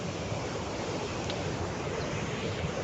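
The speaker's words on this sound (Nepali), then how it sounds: "यो विजयपुरको खोला हो" River water at Vijaypur rushing along in a steady, moderately loud broadband wash with no pauses, heard alone without voices.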